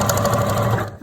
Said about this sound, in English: bit of reversing to lock the stitch